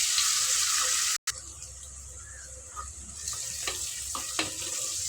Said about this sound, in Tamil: வெங்காயம் வதங்கி வரட்டும், அதுக்கப்புறம் தக்காளி போடுவேன்